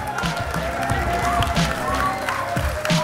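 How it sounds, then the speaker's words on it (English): A tournament crowd at a live Clash Royale event in Helsinki cheers and applauds for the champion, a steady wash of clapping and shouting with a voice talking over it. "It's just really amazing to hear them cheer for me here."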